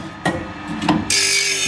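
Metal file rasping across the teeth of a saw whose tooth tips are mostly broken off from hitting metal, heard as a few short scraping strokes close by, then a steady bright hiss near the end.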